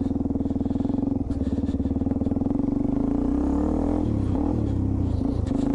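A Suzuki DR-Z400E dual sport motorcycle engine idles and runs close by with a steady, throbbing low putter, shifting pitch partway through as it revs slightly, with light mechanical clatter.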